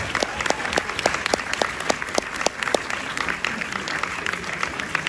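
Audience applause at a cinema premiere screening at UGC La Défense, a steady wash of many hands clapping with sharp individual claps standing out, filling the room throughout.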